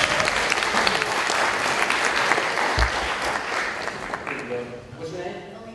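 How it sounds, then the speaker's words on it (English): Audience at an entrepreneurship forum gives a round of applause, a loud burst of dense clapping that swells and then gradually thins out, with a few voices and shuffling near the end. "Give her a round of applause."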